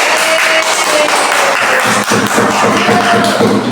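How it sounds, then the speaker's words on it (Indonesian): A group claps steadily for classmates after a presentation in a teacher-training session, a dense burst of close hand claps with a brief dip partway through and faint voices underneath. "berikan tepuk tangan"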